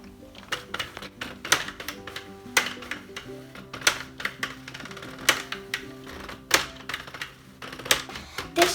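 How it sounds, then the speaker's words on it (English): A Sentro knitting machine cranks while knitting a beanie hat, making a rapid run of sharp clacks and ticks in an uneven mechanical rhythm. The sound is close and fairly quiet, with no voices. "This noise right now will stop after you get a few layers, so there's no need to be scared."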